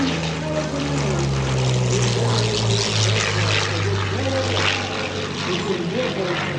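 A P-40 Warhawk propeller fighter flies at the 2024 Westmoreland County Airshow, its engine drone loud and sustained, with a slowly shifting pitch as it passes.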